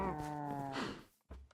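Cattle in a Minecraft modpack game give a single drawn-out moo up close, followed by a short pause and a brief farm-animal sound.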